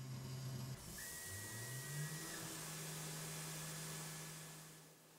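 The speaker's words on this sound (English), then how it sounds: "Right now I'm running a spring pass just to clean up the threads." A Tormach mill, used as a lathe, takes a spring pass to clean up threads, a steady whirring spindle hum with a rising pitch sweep early on, then a sustained drone that fades toward the end.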